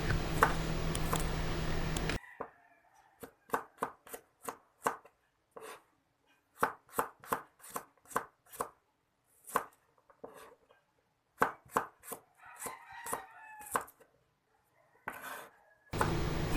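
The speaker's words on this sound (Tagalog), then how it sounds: "Hiwain po natin ng pinong-pino ang bawang para lalong manuot sa laman ng bangos." Garlic being finely chopped with a knife for daing na bangus, a run of crisp, close knife taps on a cutting board in uneven bursts with short pauses, following a brief louder noisy stretch at the start.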